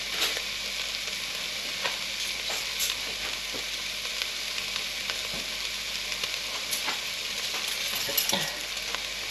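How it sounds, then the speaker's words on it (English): Beef fries in a pan for a beef chilli, giving a steady broadband sizzle with occasional spits and stirring scrapes, close and continuous with no talking. "Just going to fry off just a little bit."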